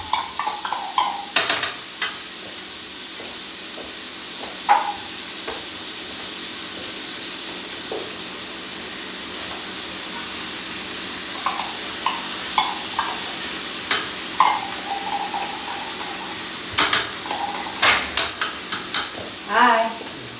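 Corned beef sizzles steadily in a frying pan while a utensil stirs it, with scattered scraping clinks against the pan over a continuous hiss.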